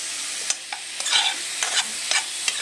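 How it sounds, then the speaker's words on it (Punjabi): Mushrooms with masala frying in desi ghee over low heat, a soft steady sizzle punctuated by a few light spoon-stirring scrapes, close and fairly quiet, no speech. "ਹਲਕੇ ਹਲਕੇ ਸਿਮ ਤੇ ਇਹਨੂੰ ਤੁਸੀਂ ਫਰਾਈ ਕਰਨਾ ਮਸ਼ਰੂਮ ਨੂੰ"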